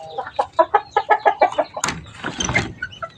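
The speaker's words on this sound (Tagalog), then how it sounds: "yung manok natin dito sa breeding area" Chickens and a rooster cluck in a farm breeding area, a rapid series of loud, close clucks followed by a burst of squawking and flapping commotion.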